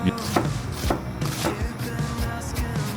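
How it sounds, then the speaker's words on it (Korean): A knife chops onion on a cutting board in a quick, uneven run of sharp knocks, several cuts per second, close up with faint background noise and no speech. "양파 찹을 준비해 줄 건데요. 먹기 좋은 크기로 썰기 위해서."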